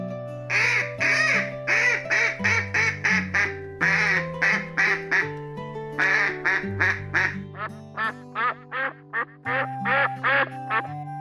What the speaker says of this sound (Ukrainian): А ось качка. Вона каже кря-кря.